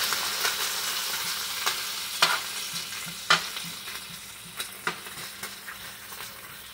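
Bacon frying in a hot pan for a BLT, a steady crackling sizzle broken by sharp pops and scraping turns of the strips at irregular intervals, close and moderately loud with no talking.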